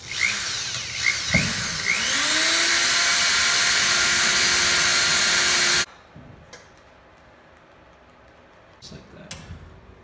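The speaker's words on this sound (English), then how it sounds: "Drill a pilot hole" A power drill bores a pilot hole while skylights and furring strips are being fitted, a loud steady whine running for several seconds and then cutting off sharply, followed by quieter handling knocks.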